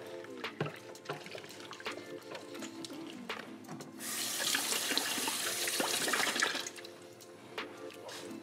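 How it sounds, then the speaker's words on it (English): A spoon is rinsed under a running kitchen tap while making slow cooker refried beans with Hatch green chile, a steady close rush of water lasting a few seconds amid quieter clinks and handling noises. "Let me wash the spoon off and get another taste test here."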